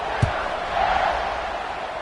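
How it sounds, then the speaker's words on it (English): A stadium crowd buzzes at a college football game, a steady, loud roar of many distant voices with one brief thump near the start. "this crowd is buzzing after that last score"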